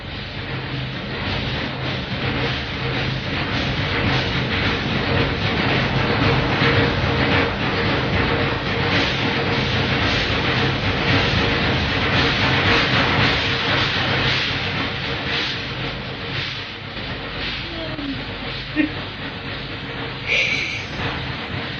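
A train rumbles steadily along the rails with a continuous hissing, clattering roar, fairly loud and close, with no talking.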